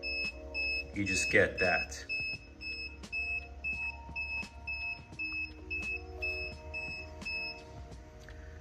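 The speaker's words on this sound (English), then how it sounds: "So that was 15 beeps." An electric bike's motor controller, fitted to a QS138 V3 motor, gives a long series of short, evenly spaced high-pitched beeps to signal a short-circuit fault, and someone briefly talks over the first few.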